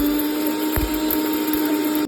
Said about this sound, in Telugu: వేపిన దాన్ని మిక్సీ చేసుకొని పౌడర్ చేసుకోవాలి.